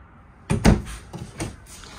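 Big deep drawer in the kitchen of a 2024 Palomino SolAire 230FKBS travel trailer sliding open, a short rumbling slide with a couple of knocks, close and moderately loud in a quiet room.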